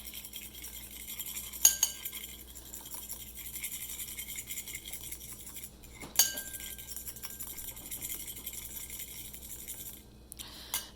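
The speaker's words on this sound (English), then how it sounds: "So you just need the fork to whisk the egg" A fork whisks an egg in a bowl while banana bread is being made, a soft steady scraping swirl broken by two sharp metallic clinks against the bowl, with no talk.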